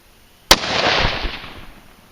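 A single sharp report from a Ruger American rifle in 6.5 Creedmoor firing a new load at long range, loud and close, followed by a rolling, fading echo across open ground.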